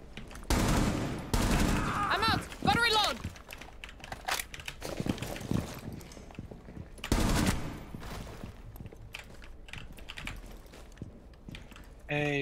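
Bursts of gunfire in Rainbow Six Siege: several sharp volleys and scattered single shots during a tight indoor round, close and loud, with keyboard clatter and players talking between the shots.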